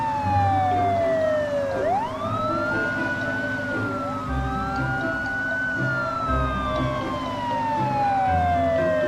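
A cartoon police car siren wails in rising and falling sweeps over a low vehicle rumble, loud and close for the whole stretch.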